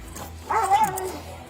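Police dog during an arrest giving a short burst of whining, whimpering yelps close by, fairly loud over a low background hum, lasting under a second.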